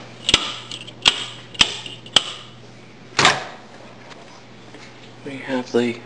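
Gas stove burners igniting during a home inspection, four sharp evenly spaced clicks followed by a softer whoosh, close and crisp, with someone speaking briefly at the end.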